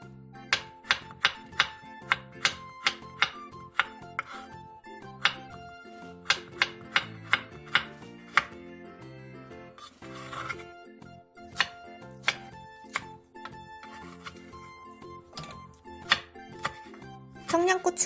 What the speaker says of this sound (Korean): 양파 1개, 당근 조금, 대파 1개를 취향에 맞는 크기로 썰어주세요